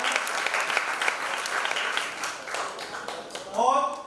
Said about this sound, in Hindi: घनश्याम सर जी का जोरदार तालियों से स्वागत।